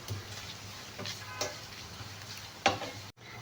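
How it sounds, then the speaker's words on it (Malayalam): Coconut frying with a pinch of salt and pepper powder for Kerala erissery sizzles quietly and steadily, with a few faint spoon scrapes and a louder clink near the end before a sudden cut to silence. "ഒരു ഗോൾഡൻ ബ്രൗൺ കളർ ആവുന്നിടം വരെ ഫ്രൈ ചെയ്തെടുക്കാം"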